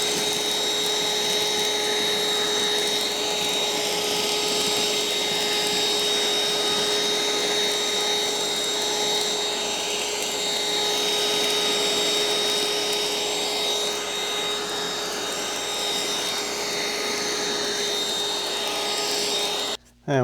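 A Bissell Featherweight cordless stick vacuum runs with a steady, even motor whine and airy rush for about twenty seconds, then cuts off abruptly at the end.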